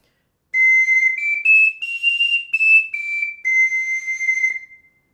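A soprano ocarina plays a short phrase of high notes with proper breath support, a steady stepwise run up and back down lasting about four seconds, clear and alone with no talking.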